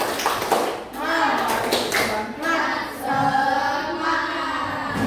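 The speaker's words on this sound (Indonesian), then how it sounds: "Tepuk semangat." A group of primary school children in a classroom clap together in a quick rhythmic pattern, mixed with young voices chanting along.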